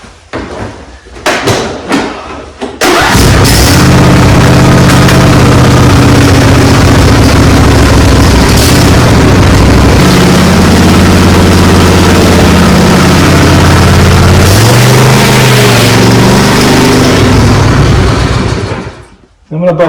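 John Deere D140 lawn tractor engine cranking a few times, then catching and running steadily, loud and close, with a low rumbling drone that shifts slightly before cutting off near the end.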